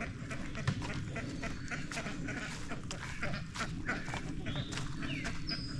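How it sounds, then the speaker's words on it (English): Ducks quack at a backyard pond beside new pasture fencing, scattered calls rising over a steady outdoor background while someone talks through much of it. "Like last night, the duck stayed in the pond."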